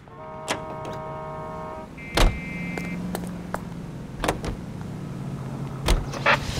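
A car drives in the L.A. Noire video game with a low, quiet engine hum under a few sharp clicks and thumps, probably the door and other in-car mechanical sounds. The sound is close and has no talk over it.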